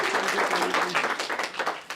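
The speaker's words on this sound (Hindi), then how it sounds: "दद्दा के सम्मान में तालियां" An office crowd claps for a sports editor being welcomed in. The applause is dense, steady and fairly close, lasting the whole moment with no voices over it.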